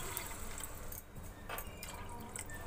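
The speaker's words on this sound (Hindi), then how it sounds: "अब हम इसमें ये पानी ऐड करेंगे।" Water pours steadily into a pan of dhaba-style matar paneer curry, a faint continuous splashing and rushing sound with no talking.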